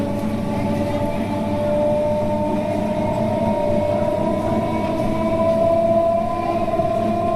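A passenger train on the Vijayawada–Machilipatnam line pulls away from Gudlavalleru station. Its motor whine climbs slowly in pitch over a steady, close rumble, with no pauses.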